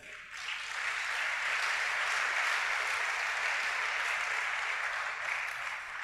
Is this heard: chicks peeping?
no